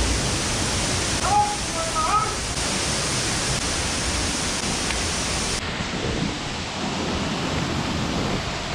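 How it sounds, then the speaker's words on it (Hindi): The hidden waterfall at Jayanti in Alipurduar roars as a dense, steady broadband rush, loud and close, with a few brief faint chirps early on and the wash slightly dulling later. "और वो रहा वाटरफॉल"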